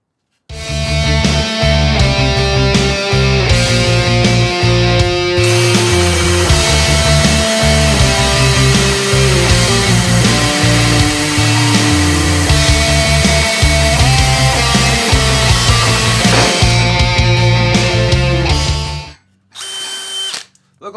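A Dewalt hammer drill bores through wood on a full battery, a loud, steady whining drone with brief dips as the bit catches, running continuously for about nineteen seconds before cutting off abruptly.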